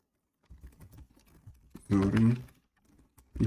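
Computer keyboard keys tapped while typing a php artisan terminal command, heard as scattered soft clicks with a short burst of voice partway through.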